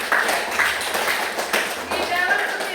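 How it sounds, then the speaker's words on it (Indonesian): A class of eighth graders in an Indonesian classroom applauds, a steady patter of many hands clapping at close range, with a voice speaking over it. "Kita tepuk tangan lagi."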